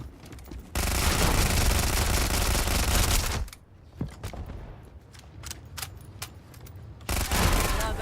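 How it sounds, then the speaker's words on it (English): Rapid automatic gunfire in Black Ops 7, a loud sustained burst of fast shots, then scattered single cracks and clicks, then another dense burst at the end. "A rapid-fire gun doesn't get as much advantage out of the sneak attack either. Look how fast we go through ammo."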